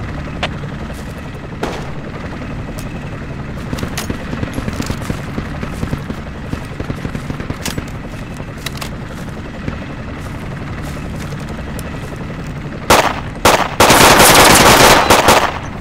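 Gunfire in the Project Reality video game: scattered single shots and short bursts over a steady battlefield background, ending in loud close bursts of automatic fire in the last few seconds.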